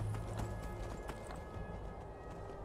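Horse hooves clip-clopping in the video game Skyrim, with a black horse moving along at a steady rhythm. The hoofbeats sound moderately close and stand alone, without talk over them.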